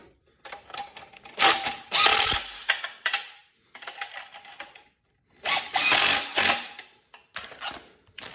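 Bolts and nuts on an Eskimo Eskape 2800 fish house being run tight with a power driver, giving loud close buzzing bursts in three or four clusters separated by short silences, with no talk.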